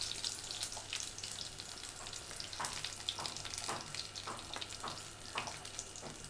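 Curry leaves hitting hot coconut oil with mustard and fenugreek seeds, a steady close sizzle studded with rapid crackles and pops at an uneven rhythm.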